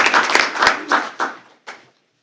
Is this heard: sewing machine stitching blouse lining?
no